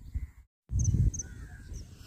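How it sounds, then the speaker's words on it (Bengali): Crows cawing beside a river in the Sundarbans, with a few short bright calls rising over a low rumbling outdoor background, broken by one brief moment of silence. "আর এই কাকেরা দেখো, এদের বিরাম নেই"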